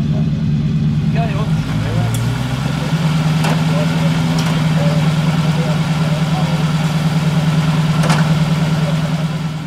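An Italian car engine, an Alfa Romeo, idling steadily with a deep, even rumble throughout, one slight dip in pitch early on and a few faint clicks over it.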